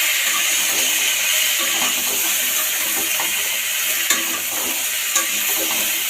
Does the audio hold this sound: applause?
no